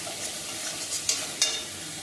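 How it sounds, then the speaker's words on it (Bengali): Spice masala being stir-fried in a pan for a Bengali dish, a steady soft sizzle with a couple of brief scraping stirs, close and fairly quiet, no voices. "এবারে আমি মশলাটাকে ভালো করে কষিয়ে নেব"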